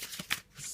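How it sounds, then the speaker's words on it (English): A Faulkner Tarot card deck is shuffled by hand in one short, crisp riffle of cards, close and fairly quiet with no talking. "just going to have a little shuffle."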